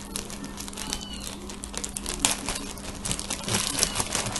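Plastic packaging around a T-shirt crinkles and tears during unboxing, close and continuous, with scattered sharper crackles and rips and no talking.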